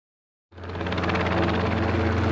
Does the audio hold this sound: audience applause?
no